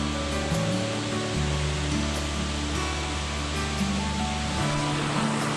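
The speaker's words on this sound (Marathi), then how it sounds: "गाईज उकळूच्या धबधब्याला आलोय आणि धबधबा तुम्ही बरोबर माझ्या बॅक साईडला पाहत असाल" Ukhalu waterfall near Chandoli Dam roars as a steady, dense wash of falling water, loud and continuous without pause, with low wind rumble underneath.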